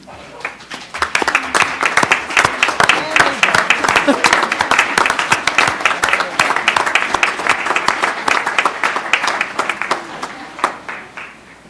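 Loud, sustained applause from a school board meeting audience, dense clapping swelling quickly and holding for several seconds before tapering off.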